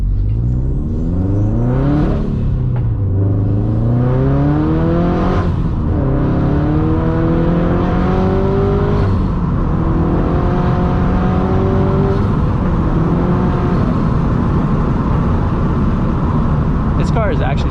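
Turbocharged Subaru BRZ pulls hard under acceleration, its engine note climbing through several rising gear sweeps across the clip, loud and close from inside the cabin with steady road roar underneath.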